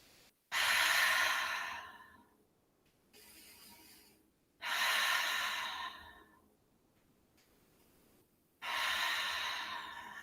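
Slow, deep yoga breaths drawn in and let out during a held pose, three long airy exhales spaced a few seconds apart, close and fairly loud with quiet pauses between and no talking.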